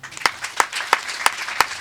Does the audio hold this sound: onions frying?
no